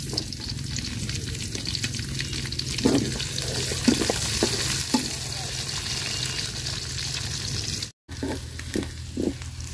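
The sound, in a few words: onion and green chili frying in oil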